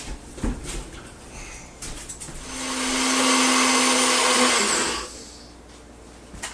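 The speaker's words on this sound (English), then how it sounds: "So then I'm going to go ahead and grind these up." An electric grinder whirs up loudly for about two seconds while grinding dried pine needles, a steady high-pitched motor drone with a faint tonal whine, preceded and followed by quieter handling clicks and thumps.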